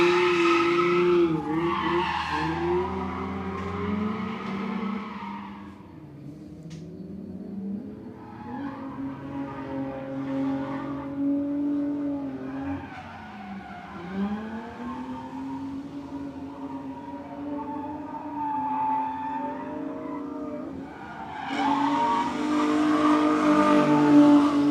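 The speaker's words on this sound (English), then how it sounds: "Just roasting the tires." A drift car roasting its tires at a live drifting event in Mexico, with loud sustained tire screeching and wailing engine revs rising and falling throughout, close and continuous.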